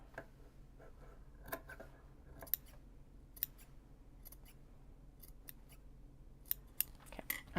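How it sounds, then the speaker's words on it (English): Fabric shears snip through cloth in a quiet indoor setting, producing sparse, crisp clicking cuts spaced irregularly across the stretch, faint and close with no talking. "They're good fabric shears when they make that noise."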